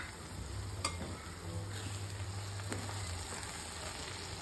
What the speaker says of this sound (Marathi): आणि छान तेलात आपल्याला थोडं भाजून घ्यायचंय.